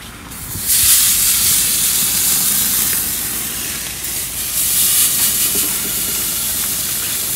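Almo chuck steaks sizzle loudly on a gas grill, a dense, steady hiss that swells soon after the meat goes down and holds with little change.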